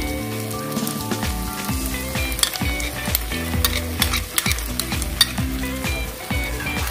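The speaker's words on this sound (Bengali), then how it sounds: "ভালো মতন করে এটা আমি মিক্স করে নিচ্ছি" Beaten yogurt is stirred into masala bread upma sizzling in a pan, with a loud steady fry and repeated scraping strokes of a spoon close by.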